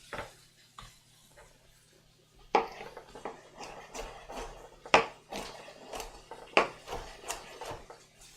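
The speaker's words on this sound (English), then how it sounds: "We're just chopping this broccoli up into bite-sized pieces here." A knife chops broccoli into bite-sized pieces on a cutting board, sparse at first, then a string of irregular, close, sharp knocks.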